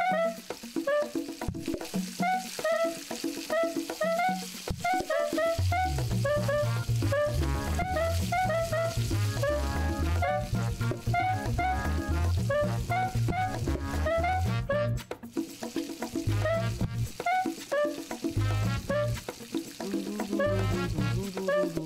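Meat cooks in a pot in the PlateUp video game, giving a continuous sizzling, bubbling cooking sound mixed with upbeat game music and busy kitchen effects.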